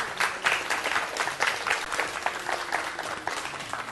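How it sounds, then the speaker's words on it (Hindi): A crowd claps loudly and continuously in honor of Edhi and Bilquis Edhi at a gathering with children in their care, the dense clapping swelling and dipping in waves for several seconds. "सबसे पहले तो ईदी और बिल्किस ईदी के लिए बहुत सारी तालियां।"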